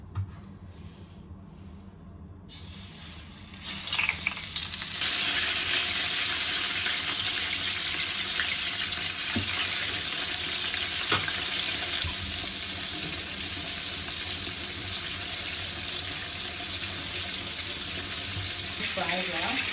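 Fillet frying in hot oil in a home kitchen, heard as a loud, steady broadband sizzle that starts after a quiet opening and continues unbroken to the end, with faint clinks of tongs now and then.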